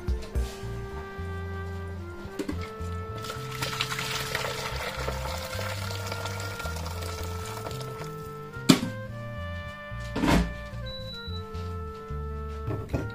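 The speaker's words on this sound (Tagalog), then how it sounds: "lagyan na natin ng mainit na tubig" Hot water poured into a pan while cooking pancit canton, a splashy pour with a few thunks and clatters of utensils, moderately close with kitchen hum underneath.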